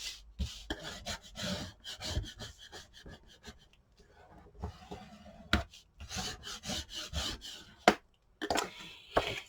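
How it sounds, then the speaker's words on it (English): Scratchy rubbing strokes of paper being burnished down on a mini album, irregular bursts close to the microphone with short pauses between them. "I'm going to go ahead and burnish this down."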